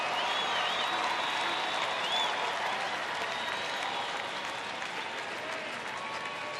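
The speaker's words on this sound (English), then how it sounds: "crowd getting behind Nick Tepish. Want the young man to get out of this inning" Baseball stadium crowd applauding and cheering at a Rangers home game against Oakland, a loud, steady wash of clapping and cheers that holds through the whole stretch and eases slightly near the end.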